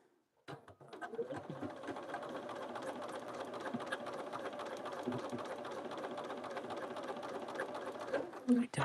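A sewing machine stitches fabric scraps in a steady, rapid mechanical whir with fine rhythmic ticking, fairly quiet and close, running for several seconds before stopping.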